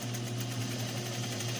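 A sewing machine runs a double stitch along the edge of a fabric face mask, a steady, close, fast-pulsing motor hum with a rapid needle chatter throughout.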